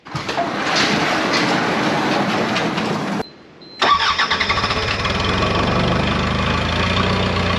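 A tractor engine cranks and catches, briefly cuts out, then restarts and settles into a loud, steady, close idle as it warms up.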